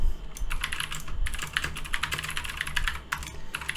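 Rapid typing on a computer keyboard, a steady run of close, crisp key clicks with a couple of brief pauses, loud and alone with no voices.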